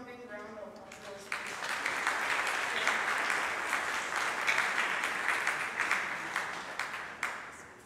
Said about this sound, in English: Shall we give these supporters a resounding round of applause?